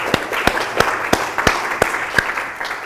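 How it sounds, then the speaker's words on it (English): Classroom audience clapping after finishing a second project, a modest, fairly sparse applause with distinct individual claps spaced roughly evenly, close and moderately loud. "give yourself a round of applause for finalizing project 2"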